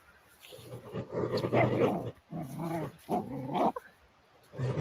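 A young working dog growls hard while gripping a bite during protection training, the deep snarls close and loud in several bursts with short breaks between them.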